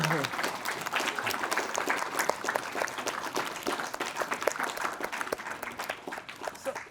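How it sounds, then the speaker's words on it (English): A crowd of kids and adults applauds at a South London youth training session, with dense, steady clapping that stays loud and fairly close throughout, joined by a few scattered voices. "Round of applause."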